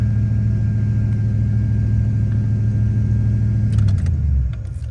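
Steady low rumble of an LS V8 (4.8, 5.3 or 6.0) idling high with a surging, stuck RPM, loud and close, the pitch sagging lower near the end.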